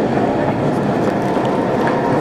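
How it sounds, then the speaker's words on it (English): A train rolls by on a city street in Croatia, a steady close rumble and rattle of wheels filling the short stretch without breaks. "Is it a train? Yeah, it's a train."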